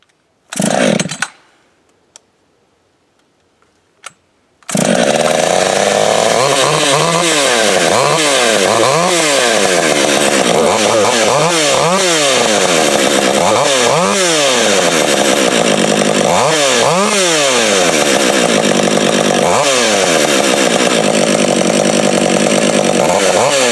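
A Holzfforma chainsaw is pulled and starts, then runs loud and close with a steady engine roar and repeated revving surges throughout, following a few brief knocks and a near-silent pause before it catches.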